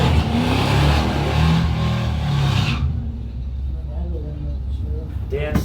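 A 1979 Cadillac Fleetwood at a drag strip, its engine roaring loud and close before dropping away to a lower rumble, with a voice talking over the noise.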